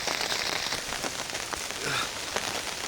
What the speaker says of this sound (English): as you can hear, it's still raining.